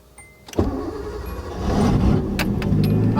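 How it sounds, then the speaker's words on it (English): A manual-transmission car cranks and fires up with the clutch in and the gear in neutral, a sharp click followed by the engine catching and settling into a steady, loud idle close by. "let's just start the car, guys"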